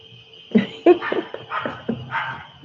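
A dog gives a run of short barks and yips close by, several quick bursts over a few seconds, with a faint steady background tone.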